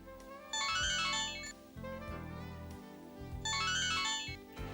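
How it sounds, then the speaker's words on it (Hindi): A mobile phone ringtone plays a loud, repeating melodic tune in two bursts, bright and close, with no talking over it. "सर मेरे ख्याल से आपका मोबाइल बजा।"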